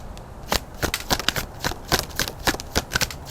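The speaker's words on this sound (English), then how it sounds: "Sorry if my microphone picked up this strong shuffling." A deck of cards is shuffled hard and close to the microphone, a loud run of quick riffling snaps and slaps in an irregular rhythm.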